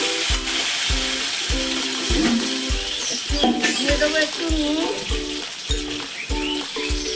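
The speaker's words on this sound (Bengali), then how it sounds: "আমি সাদা তেল দিয়ে দেবো শশাগুলো ভাজার জন্য" Cucumber pieces fry in hot white oil in a kadai, giving a continuous loud sizzle beneath a voice, with a rhythmic thumping beat underneath.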